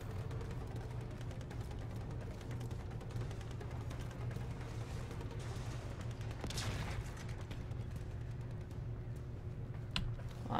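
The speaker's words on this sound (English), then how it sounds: "That was an interesting explosion." A dense, continuous barrage of gunfire and blasts from the Warframe video game, with a sharper bright burst near the middle and another near the end, steady and loud throughout with no talking.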